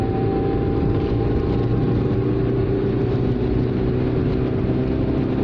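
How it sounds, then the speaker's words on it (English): A Proton Saga Aeroback engine drones steadily while the car climbs a hill at about 4,000 revs and 60 mph, sounding strained and in need of service, with constant loud cabin noise and no talking. "I think the engine needs a service."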